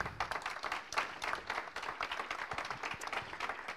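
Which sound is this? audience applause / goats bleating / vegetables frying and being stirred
audience applause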